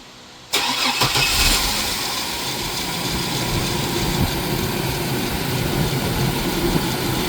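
A 2000 Chevrolet Blazer engine cranks briefly and catches, then settles into a steady, loud idle that runs on alone at close range.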